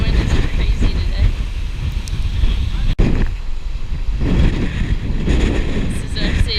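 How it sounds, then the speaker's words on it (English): Strong, gusty wind in Patagonia, Argentina buffets the microphone in a loud, continuous roar, with a brief dropout partway through and rushing surges that come and go. "The wind is crazy today."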